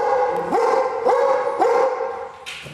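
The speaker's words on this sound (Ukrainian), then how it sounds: "Це Лорд, 7-річна німецька вівчарка. Пес шукає контрабанду." A seven-year-old German shepherd sniffer dog searching for contraband barks three times in a steady rhythm, close and loud, with a whimpering yelp at the end.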